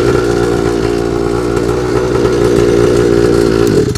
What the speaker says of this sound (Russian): Тут, в принципе, мотор стоит от бензопилы.